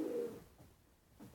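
A pair of pigeons kept in a breeding loft coo softly and close by, a low throaty murmur at the start followed by a quieter second coo near the end, with no talking.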